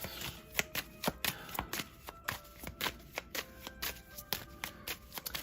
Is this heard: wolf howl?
no